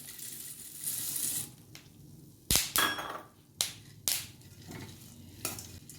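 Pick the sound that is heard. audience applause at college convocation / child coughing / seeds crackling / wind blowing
seeds crackling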